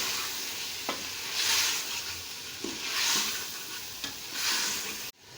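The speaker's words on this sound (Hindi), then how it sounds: "इसमें ऐड करके फिर हम इसे 1 मिनट के लिए और भूनेंगे।" Chicken korma masala with garlic, ginger and garam masala frying in a pan, a steady close sizzle broken by a few sharp stirring scrapes and clicks, with no talking.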